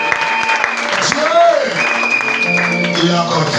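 Church congregation clapping and cheering in praise during a French-language service, steady applause mixed with raised voices and shouts from the crowd throughout.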